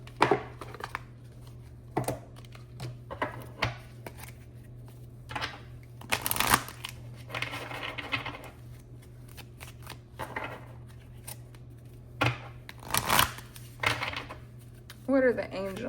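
A deck of angel cards being shuffled, with repeated riffling and card slaps in uneven bursts at close range, plus light handling sounds between them.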